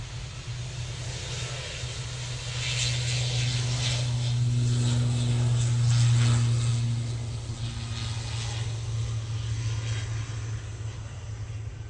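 An ATR 42 turboprop taking off at Manchester Airport gives a steady, buzzing propeller drone that swells to a peak midway and then eases slightly, loud and continuous with no voices.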